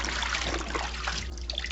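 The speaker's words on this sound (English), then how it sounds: "When you squeeze it like this, you see it's only water that is coming out." Water trickling and dribbling from a hand-washed padded bra as it is squeezed, a steady close wet patter with no talk.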